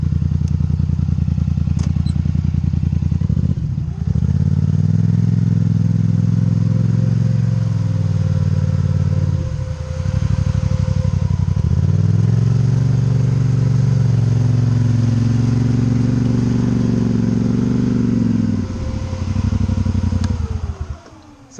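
A Motos 850 Highlifter UTV on aggressive 34-inch tires churns loudly in two-wheel drive, its mid-pitched engine droning steadily and rising in bursts of revving as the rear wheels dig down, with no talk over it.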